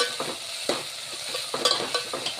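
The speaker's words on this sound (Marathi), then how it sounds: "अद्रक लसूणचा पेस्ट टाकलेला आहे एक चम्मच याला पाच मिनटं शिजवायचं आहे" Ginger garlic paste sizzling in a hot pan for a Marathi green fenugreek dal tadka, a steady bright crackle broken by several scraping spoon stirs, close and alone.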